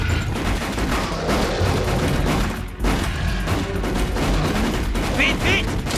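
Sustained gunfire in a French-dialogue action film about a Komodo dragon, dense bursts of shots running loud and continuous throughout, mixed with shouting voices and a cluttered soundtrack.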